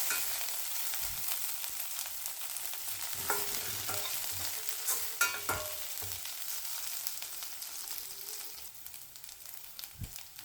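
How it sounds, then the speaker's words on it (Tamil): Curry leaves, mint and onion are sautéed for a tomato kuzhambu, a quiet, steady sizzle with occasional stirring scrapes and clinks, no talk. "கொஞ்சம் புதினா, வெங்காயம், கருவேப்பிலை எல்லாத்தையும் சேர்த்து நல்லா வதக்குங்க"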